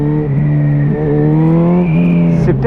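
A Suzuki B-King 1340 naked motorcycle, the Hayabusa-derived inline-four, drones loudly and steadily while being ridden, its pitch dipping and climbing slightly through throttle changes with no talking over it.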